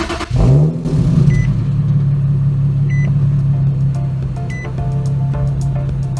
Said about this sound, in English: to start the engine, put your foot on the brake and then hit the start-stop button.